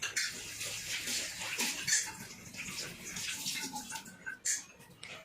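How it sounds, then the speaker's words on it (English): A washcloth is washed by hand in a basin of water during a complete bed bath, giving continuous close splashing and sloshing with brief swishes and drips throughout. "the next thing that we need to do is to wash the washcloth here on this side"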